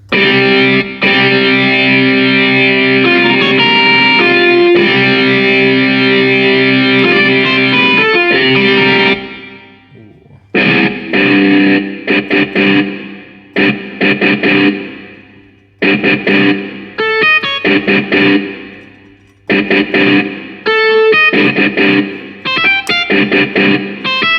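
A distorted tone on a Casio CT-S1000V keyboard, first a long sustained chord, then a series of short stabbed notes and phrases, loud and gritty.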